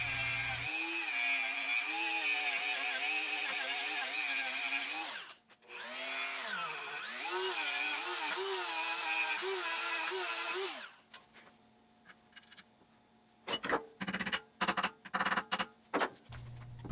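A power tool whirs loudly and steadily as it cleans rust off the crankshaft of a Craftsman pressure washer, stopping briefly and then resuming. A few sharp scrapes and knocks follow.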